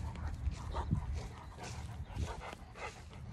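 A male dog, father of a litter of puppies, yips and whimpers excitedly in short, close bursts, greeting the owner at a walk.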